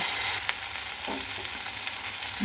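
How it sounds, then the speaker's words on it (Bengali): Rohu fish curry frying in oil in a pan while broth is added a little at a time, giving a dense steady sizzle with a few faint stirring knocks, close and with no talking. "এবার আমি অল্প অল্প করে ঝোল দেব।"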